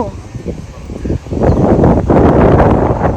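Gusty wind buffets the microphone beside the Teesta River, its roar swelling louder partway through, with voices faintly underneath.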